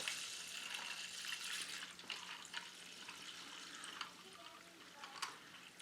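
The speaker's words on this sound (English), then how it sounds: "So I'll just pour it in there, and I'll just do it enough to submerge it." Paint stripper is poured into a container, enough to submerge a model car body: a faint, steady liquid wash with a few small splashes and clinks over about six seconds.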